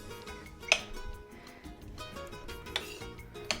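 Kitchen knife chopping onions on a board, several sharp, irregular clacks over soft clinks of dishes and utensils in a home kitchen, fairly close and moderately loud.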